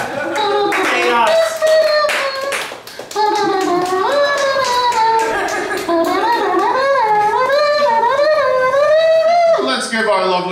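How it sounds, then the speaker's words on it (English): Audience clapping at a live comedy show for a bachelorette character, heard as scattered claps beneath loud, animated voices that dominate the moment. "Let's give our lovely bachelorette a round of applause here."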